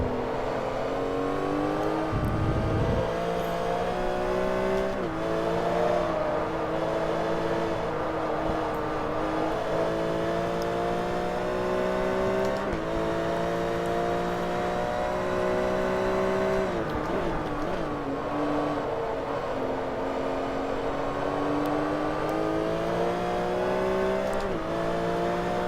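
Racing car engine in Forza Motorsport 3 running steadily through laps, with faint gear whine riding over continuous engine drone that rises and falls with shifts.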